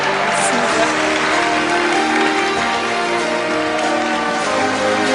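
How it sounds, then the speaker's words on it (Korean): Dense, steady applause from a crowd at a political election concert fills the space loudly and evenly from start to finish. "네, 큰 박수 부탁드리겠습니다."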